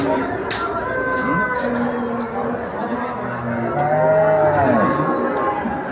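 A cow moos several times, drawn-out and fairly close, at a cattle market in Mandi Dabwali, over a steady outdoor background with distant chatter and a faint rooster.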